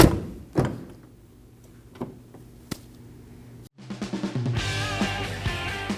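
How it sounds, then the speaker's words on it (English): The front door of a 2014-2023 Ford Transit Connect van is shut and opened, giving a few solid thunks and clicks, after which music begins. "We're going to shut and open our door to verify functionality of the door handle."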